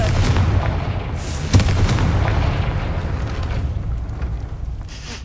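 A Confringo blasting spell in Hogwarts Legacy detonates near a gate with a sudden loud boom, then a long rumbling roar that slowly fades over several seconds.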